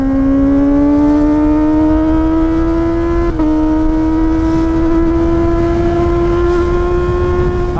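A hot motorcycle engine drones steadily while riding, its pitch climbing gradually in a sustained rev with a brief dip partway, loud and close over rushing wind.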